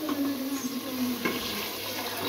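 Water poured into a pot of fried potatoes in a village kitchen makes a continuous rushing hiss with sizzling, close and moderately loud, without talk.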